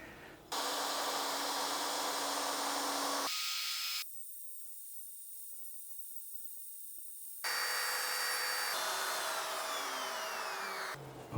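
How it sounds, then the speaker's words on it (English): Wood router cutting a shallow recess for a wood inlay, a loud high-pitched whine that stops and restarts, with a spin-down pause between the two cutting passes. "this will force it to route a recess that's just shallower than the inlay"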